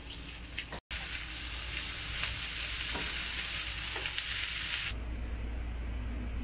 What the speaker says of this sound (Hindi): हम यहाँ पर अपने चिकन को जो है वो फ्राई कर रहे हैं